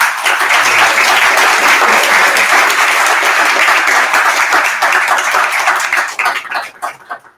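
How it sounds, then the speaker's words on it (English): Audience applause closes a question-and-answer session at a talk: loud, dense clapping holds steady for about six seconds, then thins out and fades. "Please, another round of applause for."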